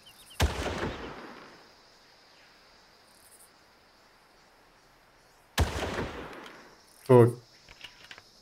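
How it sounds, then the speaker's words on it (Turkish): Gunfire from shooting practice at a mercenary camp in the Far Cry 1 video game: two sharp, distant shots about five seconds apart, each with a fading echoing tail, then a short rattling burst, all over a steady chirping of insects. "Orada bir atış talimi dönüyor."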